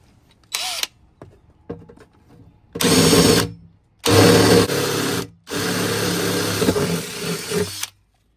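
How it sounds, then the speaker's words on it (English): A power drill whines through several bursts as holes are enlarged with a larger bit to fit a rivet nut while installing outlets in a van: one short spin, then three long loud runs separated by brief pauses. "now I need to go to a larger bit and make those holes larger"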